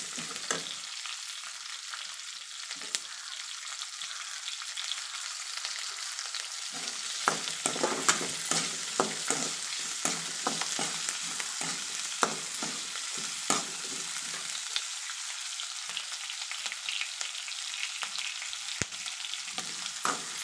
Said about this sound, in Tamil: இப்போ இதை நம்ம நல்லா வதக்கிக்கலாம்